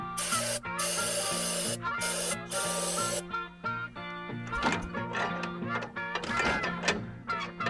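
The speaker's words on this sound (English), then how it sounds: "I'm gonna spray some starting fluid down into the carburetor bowl, or I guess through the intake" Ether starting fluid hisses from an aerosol can in loud, near bursts into the carburetor intake of an old D7 dozer, then clanks and mechanical rattles follow.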